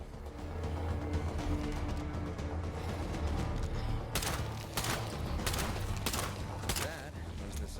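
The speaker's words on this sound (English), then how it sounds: "That was the sound of my last shot." Gunfire in the State of Decay 2 video game, heard as a few sharp shots near the end over a dense, noisy game mix with muffled talk throughout.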